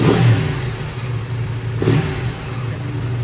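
A 2019 KTM 790 Adventure S motorcycle engine idles steadily up close, with two brief throttle blips lifting the revs before settling back to a low, even idle.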